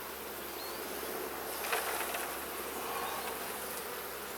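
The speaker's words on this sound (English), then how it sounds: "a lot of bees fell off when I unstuck them" A dense swarm of honeybees hums from an opened hive being split, a faint, continuous buzzing drone of many insects heard up close with no talk.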